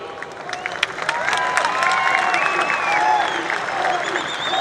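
A large crowd at a political rally applauds, clapping building into a sustained roar mixed with cheering and whistles, voices rising through the din.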